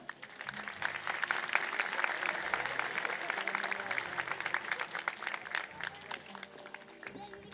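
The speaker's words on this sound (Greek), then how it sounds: "Η Σάρα και ο Ερμή θα τους δώσουμε ένα χειροκρότημα." An audience at a dolphin show in a zoological park claps continuously, a dense, steady patter of many hands heard from within the crowd with a faint murmur of voices beneath.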